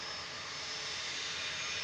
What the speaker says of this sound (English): up first is Logan Air going to Inverness, the SAJL, the Embraer Air E145,